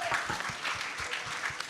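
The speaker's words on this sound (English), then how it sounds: "Let's give a big round of applause to them." Audience applause for guests on stage at a talk event on progressive India, a brisk, even patter of many hands, fairly close and steady throughout with no talk.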